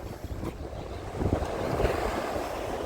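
Sea waves wash onto Langeron beach in Odesa at sunrise, a close, steady rush of surf mixed with wind buffeting the microphone. One wave swells louder midway, and no one speaks.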